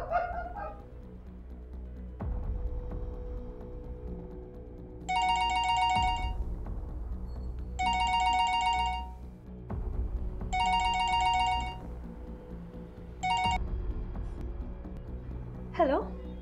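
A mobile phone ringtone sounds in four repeated electronic bursts with short pauses between them, the last cut off, over a quiet room tone in a television drama scene, with brief voice sounds at the start and end.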